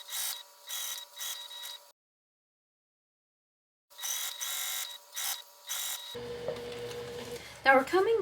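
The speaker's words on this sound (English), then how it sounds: "let's continue sewing" A sewing machine stitches a simple fabric pouch, running in close, rapid buzzing bursts that stop for a couple of seconds and then start again. Toward the end, a different rustling sound takes over.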